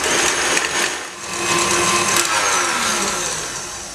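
An electric mixer whips egg whites with sugar toward soft peaks for a yule log, a loud close motor whine that rises and falls slightly as the beaters churn.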